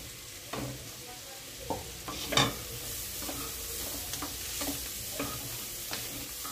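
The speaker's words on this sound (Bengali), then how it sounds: "বাঁধাকপিটা বেশ ভালোভাবে ভাজা হয়ে গেছে।" Chopped cabbage and mixed vegetables frying with salt in a pan for mixed chowmein, a steady sizzle broken by repeated scraping stirs and clinks of a spatula, fairly close.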